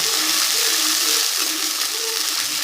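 Water poured into a hot pan of drumstick leaves being cooked for murungai keerai poriyal gives a steady, close hissing sizzle with a gushing splash, lasting a few seconds with no voices.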